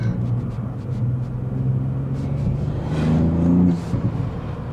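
Small 200 hp car engine revving near and loud, a low steady drone that rises in pitch through several climbing blips toward the end.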